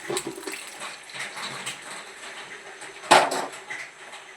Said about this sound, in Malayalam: ഇത് നമുക്ക് ഒരു ഓട്ടപ്പാത്രത്തിൽ ഒഴിച്ചു കൊടുക്കാം